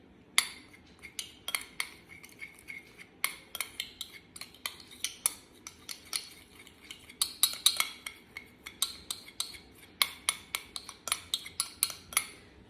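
A piece of biodegradable cover being stirred in water in a container, giving a rapid run of sharp clinks and taps against the sides that continues steadily throughout, close and fairly faint, with no talk.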